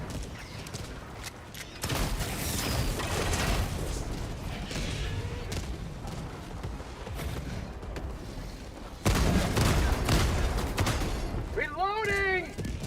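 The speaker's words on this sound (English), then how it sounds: "Reloading." Helldivers 2 gunfire on a high-difficulty mission: dense bursts of shots and booms run throughout, with a louder surge near the end. A short mechanical reload clatter follows, under occasional talk.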